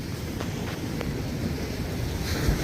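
Big ocean waves rolling in along a beach where fishing boats have been hauled up, a steady distant surf roar mixed with wind buffeting the microphone, no voices.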